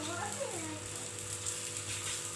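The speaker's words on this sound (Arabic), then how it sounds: "نرمو شويه زيت هكذا ونحطو المحجوبه ديالنا" Mahjouba flatbread fries in oil in a pan, giving a steady, close sizzling hiss, while a voice speaks briefly near the start.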